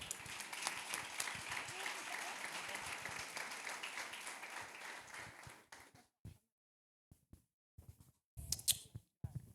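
A church congregation applauds during a Sunday family service, a dense, fairly even wash of clapping lasting several seconds before breaking off into scattered faint claps and small noises.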